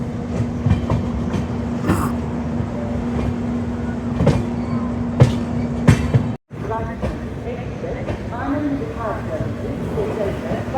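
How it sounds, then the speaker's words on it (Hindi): The Sairang Rajdhani Express rolls into DDU station, a steady rumble and clickety-clack of carriages over the rails with a constant hum and occasional sharp clanks, while a voice talks over it. "4:34 में ही हमारी ट्रेन DDU में अराइव कर चुकी है"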